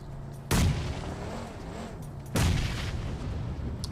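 Two heavy booming gunshots ring out about two seconds apart during a competitive video game tournament match, each followed by a long rumbling tail.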